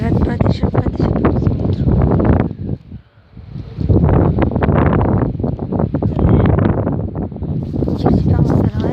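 Strong wind buffets the microphone outdoors in loud, roaring gusts with a brief lull midway, while a person talks over it.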